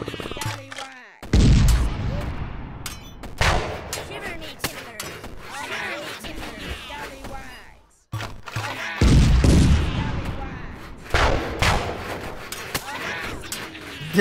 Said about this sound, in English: Whoa, they have cannons?